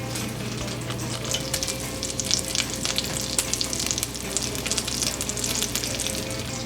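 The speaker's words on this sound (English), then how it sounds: "Nothing quite like the sound of bacon sizzling, is there?" Bacon sizzles and spits in a frying pan with a close, continuous crackle of dense, irregular pops that stays steady the whole time.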